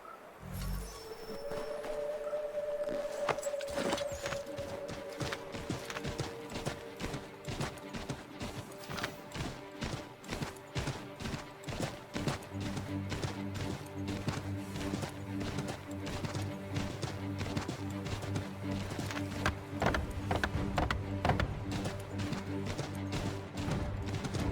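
Horse hooves clip-clop repeatedly in Assassin's Creed 3, a steady trotting rhythm of hoofbeats close by, with a brief whinny early on and game music and ambience running underneath.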